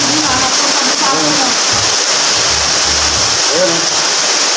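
Heavy rainwater pours and splashes continuously from a clogged, overflowing drain, a loud close rushing under brief voices talking.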